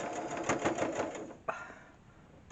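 A sewing machine stitches piping in a fast, rhythmic run of needle clatter that stops abruptly with a click, leaving only a quiet hum afterward.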